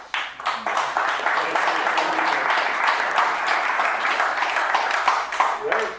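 Audience applause at a talk thanking a speaker, a dense, even roar of many hands clapping that swells quickly and holds steady at moderate loudness for several seconds.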